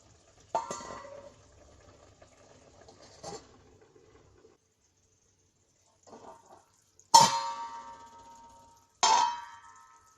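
A cooking pot of soya chunks masala curry is covered with a metal lid. Four separate clanks ring out, and the third is the loudest, with a bright ringing tail. Quiet pauses fall between them and no one speaks.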